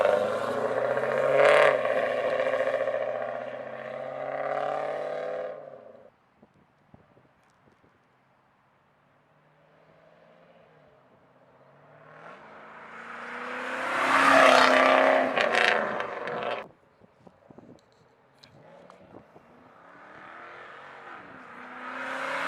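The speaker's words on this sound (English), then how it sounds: "You probably can hear me going down the street now." A 2000 Chevrolet Camaro Z28 with a Flowmaster exhaust is heard from outside, its V8 note rising and fading as it drives off down a street, returning loud around mid-clip with wind noise, then receding again.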